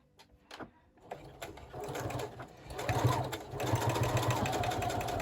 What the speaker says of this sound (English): And then sewing the other side of that cardstock.